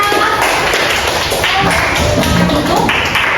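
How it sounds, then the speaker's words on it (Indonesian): A classroom of students clapping for a presenting group, a loud close burst of hand claps with uneven sharp taps and thumps throughout. "boleh tepuk tangan untuk kelompok 4"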